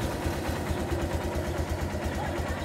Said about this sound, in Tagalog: Ang ganda na ng tulog ng makina mga idol.